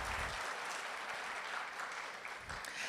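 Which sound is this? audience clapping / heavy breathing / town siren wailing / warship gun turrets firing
audience clapping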